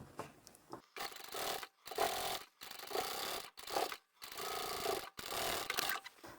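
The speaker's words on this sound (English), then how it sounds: "I'm going to top stitch right along the edge there." A sewing machine top stitching along a folded fabric edge runs in several close, rapid bursts of a second or so each, whirring and clattering with short pauses between runs.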